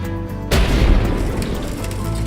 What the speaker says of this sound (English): Something like this sound effect, an explosion might be better.